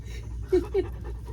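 A big dog panting in a shop, with two short, close huffs of breath in quick succession over a low background murmur.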